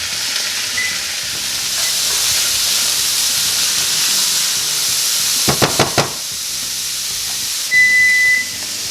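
Carrots and other vegetables for a coconut carrot mung bean stew cook in a pot with a steady, loud steamy hiss and sizzle, broken by a few brief clicks and a short whistling tone near the end.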